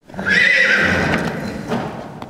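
A horse at a national stud farm in Rodez neighs loudly in a long, wavering whinny, with hooves clip-clopping close by under it.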